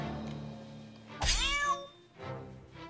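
A cat meows inside the video game South Park: The Stick of Truth, one loud drawn-out yowl sliding downward, followed by a softer trailing sound over faint game background.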